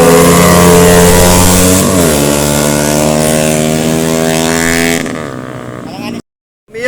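A small-wheeled Mio motor scooter revs hard at close range, its loud engine drone rising and falling in pitch for several seconds before cutting out, with voices shouting over it.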